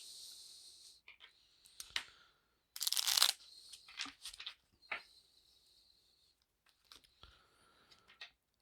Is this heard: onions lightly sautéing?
no